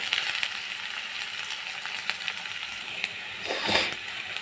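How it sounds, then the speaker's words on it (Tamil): Finely chopped onions and curry leaves sautéing in a pan, a soft, steady sizzle with an occasional stir swelling briefly near the end. "கருவேப்பிலை, பொடியாக கட் பண்ணி வச்சுருக்க வெங்காயம் போட்டு நல்லா வதக்கிக்கோங்க"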